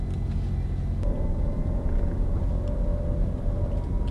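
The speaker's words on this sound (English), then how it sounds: "It's like a vibration, grind, and motor noise." Inside a Rivian R1S electric SUV while driving, steady road rumble fills the cabin, and a thin electric-motor whine joins it after about a second.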